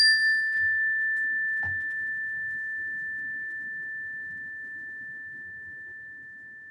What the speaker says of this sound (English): return to the current moment with the sound of the chime